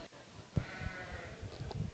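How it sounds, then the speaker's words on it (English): Sheep at a junior market lamb show in an arena, a couple of short bleats rising over a busy background of livestock and crowd noise. "an awfully good set of sheep"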